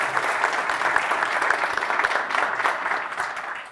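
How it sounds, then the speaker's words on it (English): Sustained audience applause fills a conference room at an enterprise AI panel event, steady dense clapping from a crowd at close range for several seconds with no talking over it. "once more round of applause for..."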